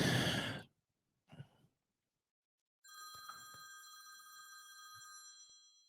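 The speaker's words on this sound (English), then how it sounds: "My phone's not ringing. Now it's ringing." A telephone bell rings steadily for several seconds after a heavy breath and a short rustle, loud and close.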